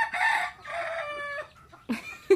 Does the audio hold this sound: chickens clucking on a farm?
yes